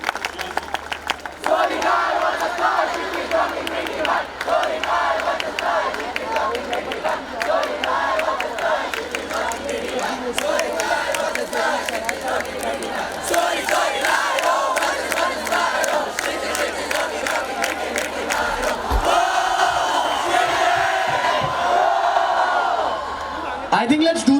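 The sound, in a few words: crowd cheering at live event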